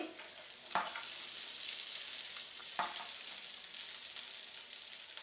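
Cooked, cooled rice tipped into a pan of tempered seasoning for wild amla pulihora and stirred in, a steady close sizzle with two sharp scraping strokes standing out.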